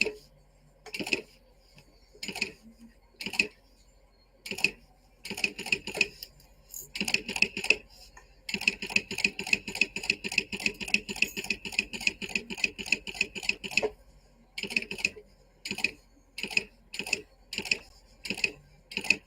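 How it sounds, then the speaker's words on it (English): A sewing machine stitches around the main body of a small fabric bowler hat in short rhythmic bursts, with stops and starts between runs and one longer steady stretch of rapid stitching in the middle, close and clear with no talking. "I'm just going to sew around the main body of it"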